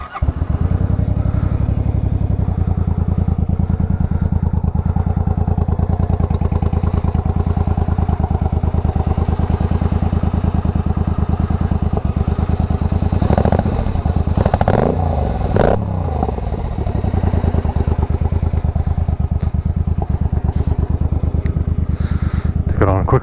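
A motorcycle engine idles in neutral with a steady, close, low droning hum that holds evenly throughout, with a brief rattly flutter partway through.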